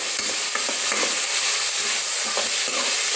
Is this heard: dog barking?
no